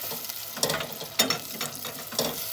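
Meat, with fat, sautés in a pan for a garlic meat dish, giving a faint steady sizzle broken by a few scraping stirs and soft clinks, with no voices.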